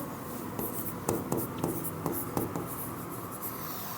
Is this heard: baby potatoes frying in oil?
no